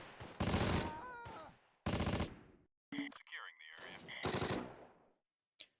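In the video game Close Combat: The Longest Day, loud machine gun fire comes in several sharp bursts separated by brief pauses, with sound effects mixed between them.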